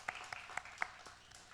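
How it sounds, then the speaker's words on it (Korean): Church congregation at a Korean Sunday morning worship service clapping in encouragement, a quiet, fairly even run of claps that fades quickly. "한 번 더 우리 박수로 격려하도록 하겠습니다."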